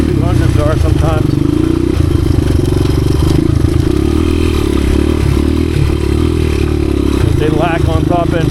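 A 1986 Honda XR200R dirt bike engine revs and lugs loudly up close while riding over rocks in third gear, its pulsing drone rising and falling, with someone talking over it.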